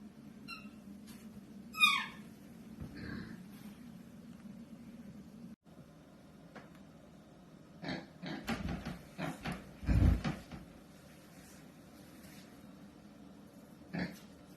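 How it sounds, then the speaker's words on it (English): A Vietnamese pot-bellied pig on a farm porch gives scattered squeaks and short grunts, some high and thin, others low and rough, coming in brief bursts separated by quiet stretches, fairly faint and close by. "Darla Sue makes all kinds of noises such as squeaks and grunts."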